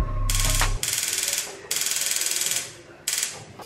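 A gas stove igniter clicks as someone tries to light a burner under a pan of water. The clicking comes in several rapid, ratcheting bursts separated by short pauses, close and fairly loud, with no one speaking.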